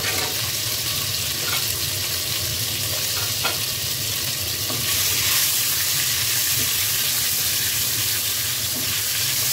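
Eggs frying in hot oil with a little salt for egg korma produce a continuous close sizzle with faint scrapes and taps of stirring, steady and even for the whole stretch.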